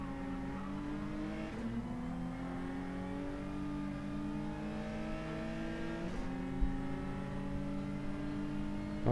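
A race car engine in Gran Turismo 7 climbs in pitch through sustained revs, with abrupt drops at each gear change, about two shifts, steady and continuous with no voices.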